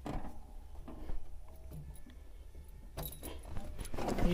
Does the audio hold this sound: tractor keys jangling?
yes